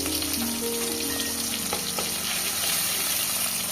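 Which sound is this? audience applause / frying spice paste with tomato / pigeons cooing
frying spice paste with tomato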